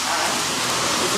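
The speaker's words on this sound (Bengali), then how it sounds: "হ্যাঁ, বিরাট বৃষ্টি।" Heavy downpour during a rainstorm, a dense, steady hiss of rain falling on surfaces, loud and unbroken across the brief moment.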